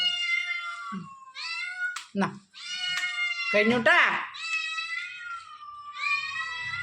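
A pet cat meows repeatedly at close range, a string of drawn-out, wavering cries separated by short pauses, while a person speaks nearby.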